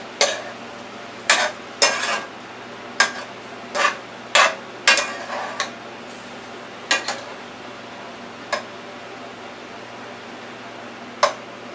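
Broccoli tossed and flipped in a sauté pan on a stove, giving a series of sharp clattering scrapes and knocks in irregular bursts over a low steady background hiss, with no talking.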